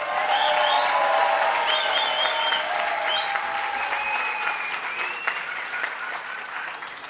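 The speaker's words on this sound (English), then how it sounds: "Let's give him a round of applause." Audience applause at a labor rally with a governor in New York, dense and steady clapping from a large crowd that stays strong throughout and tapers slightly toward the end.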